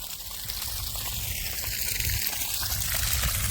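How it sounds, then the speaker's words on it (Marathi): A steady, full gush of water pouring from a borewell pipe with the pump motor switched on, loud and continuous throughout with no voices. "आता पाणी चालू झालेलं आहे"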